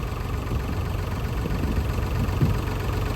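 An old tractor engine, about twenty years older than the one it replaced, runs at a steady low idle with a faint uneven knock, alone and nearby.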